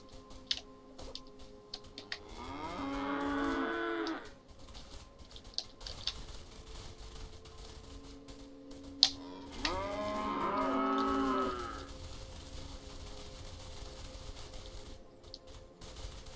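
Two drawn-out cow moos from the brown cows in the video game How Now Brown Cow, each lasting a couple of seconds and separated by a quiet stretch with faint clicks.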